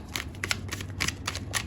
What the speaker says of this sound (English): now I'm gonna show you how to shuffle like this